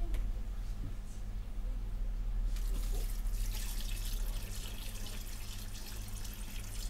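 Water pouring into a children's AQUAEL aquarium, a steady trickling and splashing flow that grows brighter and stronger midway, with a constant low hum beneath, fairly faint overall.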